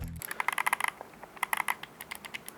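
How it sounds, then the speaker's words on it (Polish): Crisp, rapid mechanical button clicks from a game controller with mechanical switches, in quick irregular clusters, close and fairly quiet, with no voices. "Wszystkie klawisze są klikalne"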